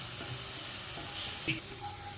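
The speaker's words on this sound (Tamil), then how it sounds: "கடுகு உளுந்தம் பருப்பு போட்டு தாளிக்கணும்" Mustard seeds and urad dal crackle and sizzle in hot oil, with small pops and a stirring scrape, steady and close by.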